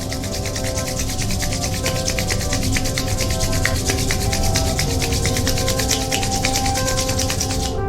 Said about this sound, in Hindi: दोनों हाथों की हथेलियों को आपस में रगड़ेंगे, हथेलियों का घर्षण करेंगे ऊर्जा के साथ।